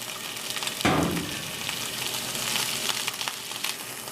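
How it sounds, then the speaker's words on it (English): Chopped onions hit hot olive oil in a pan for tikka masala, setting off a sudden loud sizzle that settles into a steady, bright frying hiss. "I want it to sizzle when I add it."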